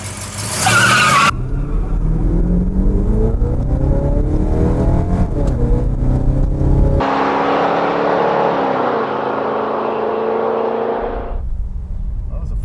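A stock Chevrolet LS6 with Cruiser 310 gears launches down a drag strip, its engine revving up through rising gear pulls with a shift break, loud and close, followed by a second stretch of strong engine roar.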